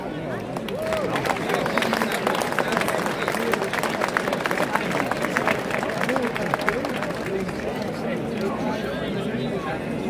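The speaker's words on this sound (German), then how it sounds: "das ist ein Applaus wert" Steady, dense clapping from a crowd at a Three Kings' Day whip-cracking event in Schwyz, sustained at an even level for the whole stretch, with background chatter mixed in.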